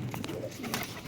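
Pigeons coo in a short 1-second burst, with a few soft throaty calls close by against steady background noise; the birds are prized flying pigeons kept in a loft.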